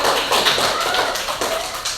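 Schoolchildren in an Indonesian classroom clap their hands together after a group presentation, a dense, continuous patter of many small hands at close range with no talk over it.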